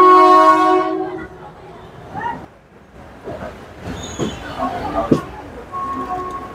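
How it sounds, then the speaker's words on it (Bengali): The Dhauli Express leaves Shalimar station in the morning, opening with a long, loud horn blast that gives way to quieter rolling clatter and scattered station noises, with talk in the background. "সকাল 9:15 গাড়ি শালিমার স্টেশন ছেড়ে দিল।"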